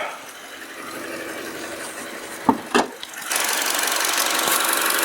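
A 2014 Chevy Cruze 1.4-litre turbo engine idles steadily nearby, hood open, with a couple of sharp knocks or clunks partway through before the running hum grows a bit louder.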